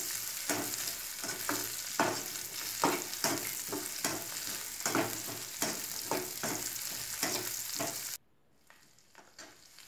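Chopped adamant creeper (pirandai) being sautéed in a pan for a Chettinad village-style chutney: rhythmic spatula strokes over a steady close sizzle, which cuts off abruptly to near silence for the last two seconds.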